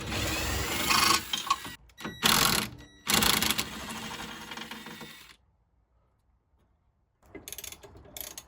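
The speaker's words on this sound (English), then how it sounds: "I'm just going to carefully wind out the remaining 2 bolts" Ratchet winding out hub bolts on a Ford Fiesta ST150 while axle spacers are being fitted, heard as bursts of rapid mechanical clicking close by, broken by a long silent pause before a shorter final run of clicks.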